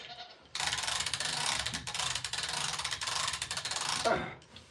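A come-along ratchet winch clicks rapidly and continuously for about three and a half seconds while hoisting a goat in a harness, close and fairly loud, with a brief goat bleat near the end.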